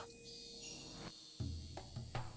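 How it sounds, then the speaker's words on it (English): Steady high-pitched cicada buzz drones continuously in the video game Higurashi: When They Cry, with a low musical hum and a few soft thuds underneath. "I'd hear the sound of the cicadas."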